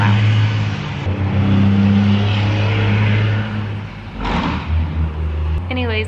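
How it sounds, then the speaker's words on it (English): A loud, rumbling truck engine drones steadily nearby, its low roar swelling and fading as the truck goes by, with a voice briefly heard. "this truck's so loud."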